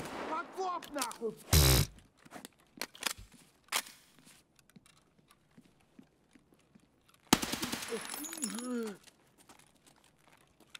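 Automatic gunfire and a shotgun in a raid shooter video game, with short bursts and single shots separated by quiet gaps, a loud rattling burst near the end, and a player talking between shots.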